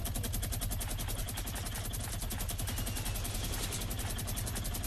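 Rapid automatic gunfire from a video game hammers away nonstop, a loud, even stream of closely spaced shots with no talking over it.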